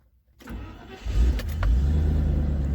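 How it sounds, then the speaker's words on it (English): A car engine cranks and catches, then settles into a steady low rumbling idle, close and loud with no talking. "you start your vehicle."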